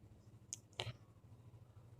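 Two faint, sharp computer mouse clicks close together in a quiet room, with a low steady hum beneath them.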